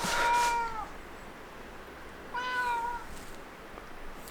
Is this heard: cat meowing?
yes